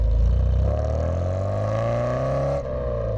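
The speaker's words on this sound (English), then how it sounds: "listening to that engine sing through its SU carburetors" A classic MGB with SU carburetors drives along, its engine note rising steadily as it accelerates, then dipping briefly near the end with a gear change, loud and close throughout.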